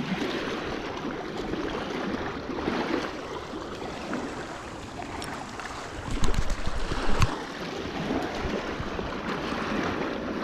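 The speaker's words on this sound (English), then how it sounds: "Got so many waves and wakes, etc. Kind of loud out here" Waves and boat wakes wash steadily along the bank of a large reservoir, a continuous broadband rush with a louder, choppier surge midway.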